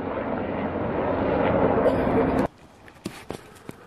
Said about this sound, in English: It's actually the Coast Guard helicopter.